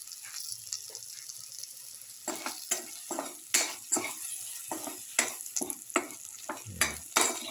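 Spices being mixed in a hot pan for garlic okra tomato rice, a soft sizzle broken by repeated scraping strokes of a spatula in an uneven rhythm, close and clear with no talk.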